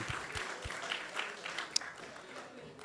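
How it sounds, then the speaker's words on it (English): Gathering at a devotional program applauding a sung aarti, scattered clapping heard faintly and at some distance, with a few voices mixed in. "let's give her a big round of applause"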